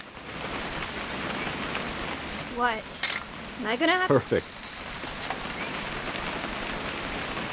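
Steady rain falling in the video game What Remains of Edith Finch, a constant hiss of drops on surfaces heard throughout, with a few brief spoken lines over it midway.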